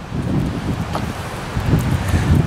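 Gusty wind on a cold day outdoors buffets the microphone with a continuous low roar that swells and eases, and no voices are heard.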